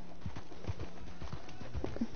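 Hooves of a horse in Red Dead Redemption clop at an easy walking pace, a regular series of soft, close thuds over about two seconds with no other sounds.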